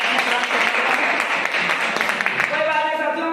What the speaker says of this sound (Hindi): चलिए सब के लिए एक बार जोरदार तालियां हो जाए।